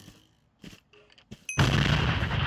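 Minecraft gun mod weapon letting off an explosion: a sudden loud blast midway that swells into a sustained, roaring rumble after a few faint earlier clicks.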